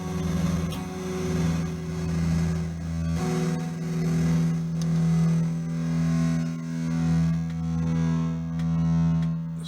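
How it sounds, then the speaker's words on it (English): An electric guitar through a fuzz into a tremolo on an Empress ZOIA effects pedal: a thick, distorted sustained tone pulsing rhythmically in volume, about once per second, with no voices. "So you've got a fuzz into a tremolo."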